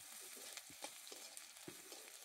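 Garlic and black cumin stir-fry quietly in a pan, a soft, continuous sizzle broken by a few scraping strokes of the spoon, with no voices.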